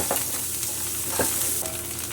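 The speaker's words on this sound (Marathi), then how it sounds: "हे पूर्ण मिक्स करून घ्यायचं आहे" A spoon stirs a thick spice mixture of turmeric and coriander for a chickpea-greens curry in a pan, with soft scraping strokes over a steady, gentle sizzle; no talking.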